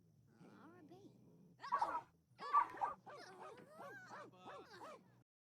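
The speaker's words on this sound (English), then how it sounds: "What an angry little dog." An angry small dog in The Sims 4 barks, yips and whimpers in a string of short, high, pitch-bending cries.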